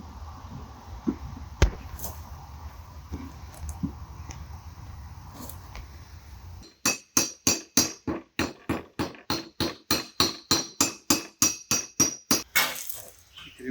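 Repeated hammer strikes seat an axe head onto its wooden handle, ringing out in a fast, steady series of sharp metallic-wooden blows, about twenty in a row, after a quieter stretch with a few scattered knocks.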